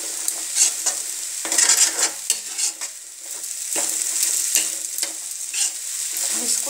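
Aloo khichdi cooks in an open pan with a steady sizzle while a spoon stirs it in repeated close scraping strokes, with no voices.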